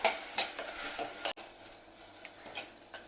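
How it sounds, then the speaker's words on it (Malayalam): Chopped onions with a pinch of salt are stirred and sautéed in a pan for cauliflower curry: soft sizzling under several scraping stirs of a spoon against the pan, including one sharp clack, close and quiet. "ഇനി ഇതൊന്ന് നല്ലതുപോലെ വഴറ്റിയെടുക്കണം."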